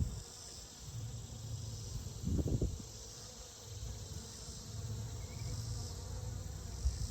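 Honey bees bringing pollen into a hive, a faint continuous buzzing hum close by, with one brief louder buzz as a bee passes near.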